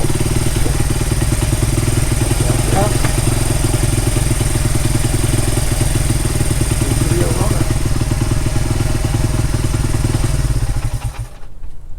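A Honda CRF80F 80cc carbureted dirt bike engine runs steadily nearby, a loud continuous idle with rapid rhythmic firing pulses and mechanical clatter, two brief throttle blips, then cutting out near the end.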